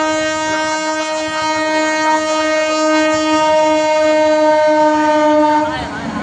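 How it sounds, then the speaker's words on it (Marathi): A train passing a railway level crossing gives off a loud, sustained, steady horn-like tone that lasts for several seconds before dropping away near the end, heard close over rumbling noise. "आम्ही इथपर्यंत थोडी वाट पाहिली की ना पाहिली तशीच ट्रेन आली."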